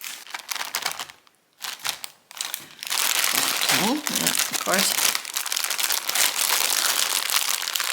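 Loud crinkling and rustling of plastic packaging as a knitting needle set is opened, continuous after a brief pause, with a few spoken words early on.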